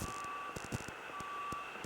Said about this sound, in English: A simple concrete truck with an extra long chute can get the job done.